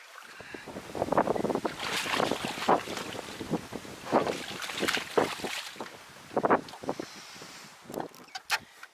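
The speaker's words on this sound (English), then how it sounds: "that wind is pushing us right along" Gusty wind buffets the microphone while canoeing, rising and falling in rough surges close by, with faint water sounds beneath and no clear speech.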